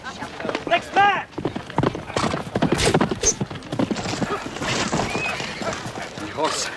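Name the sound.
horse galloping and neighing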